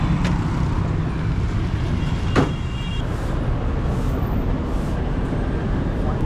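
A Soviet jeep's engine runs steadily on a street in Hanoi, a dense, continuous rumble with a brief sharp click partway through.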